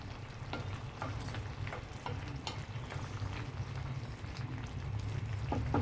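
Mushroom curry simmering and lightly sizzling in a pan as garam masala is stirred in, a soft continuous bubbling hiss with occasional spatula scrapes and taps, close and fairly quiet.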